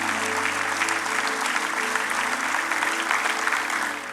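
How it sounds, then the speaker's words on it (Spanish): Congregation applauding at a church service, a steady dense wash of clapping that holds at even loudness for the whole stretch, with no voices standing out above it. "dale un fuerte aplauso a Él, porque Él es digno de ser exaltado y glorificado"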